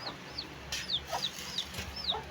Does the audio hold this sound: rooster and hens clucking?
yes